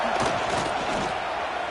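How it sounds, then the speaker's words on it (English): A home stadium crowd at a college football game, Michigan State against Boston College, roars loudly and continuously, a dense wall of cheering and yelling throughout. "how nice is it to have the home crowd going absolutely bananas"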